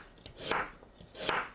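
Sweet potato is sliced into half-centimetre rounds on a cutting board, giving two crisp knife strokes, each a soft slice ending in a thud about a second apart, close and quiet with no talking.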